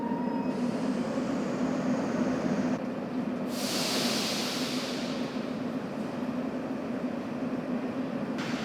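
A subway train moves through a Kyiv metro station, a loud, continuous rumble and rolling rail noise with a burst of bright hiss partway through, close and steady without speech.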